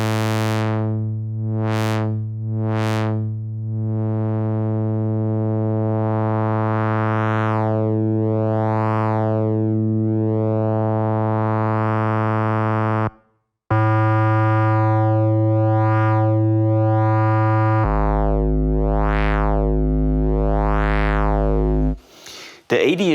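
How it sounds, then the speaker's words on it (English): Modular synthesizer drones through a voltage-controlled filter, steady loud tones with sweeping, wobbling filter movement, a short cut-out midway, then a brighter buzzy section with rising and falling sweeps. "The voltage-controlled filter changes those waveforms, allowing the harmonic content to be modulated."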